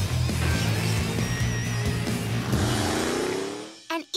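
A heavy monster truck engine roars loudly and steadily, then winds down and fades out, followed by a couple of short bursts of sound.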